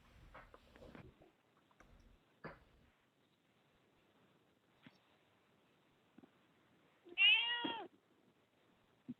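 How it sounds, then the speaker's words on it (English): A single cat meows clearly near the end, loud and close, after a stretch of faint scattered knocks and rustles. "Oh, I heard your kitty."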